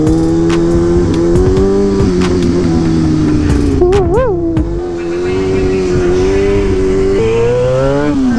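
Honda Grom motorcycle engine held at a steady buzzing idle-to-rev drone, with a quick blip rising and falling midway, loud and close on a salty road before a stoppie; no talking.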